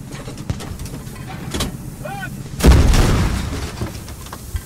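A booming explosion in the game Squad bursts out amid quieter background effects and a brief chirping tone, with people talking in Turkish over the action.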